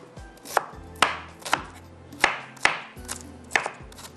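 A knife slices through a fresh, slippery onion on a cutting board, about eight crisp, evenly spaced chops landing close and clear with quiet gaps between them.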